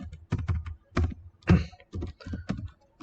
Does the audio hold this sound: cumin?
no